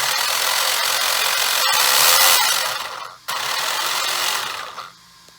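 A Traxxas 4X4 RC car's drivetrain with a new spur gear and tightened slipper clutch whirs at light throttle in two close, bright bursts of gear whine, the second shorter and trailing off near the end.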